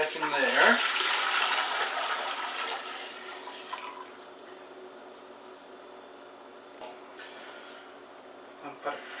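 Pumpkin wine liquid is poured back into its container, a brief splashing pour that starts loud and then fades to a faint trickle with a few small clinks.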